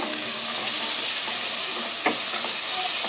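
Coriander and mint leaves frying in hot oil in a pan for chicken biryani, a steady close sizzling hiss with a few faint clicks and pops.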